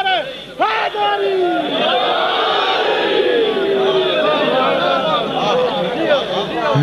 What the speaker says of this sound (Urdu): دونوں پنجوں پر کھڑے ہو کے نعرے حیدری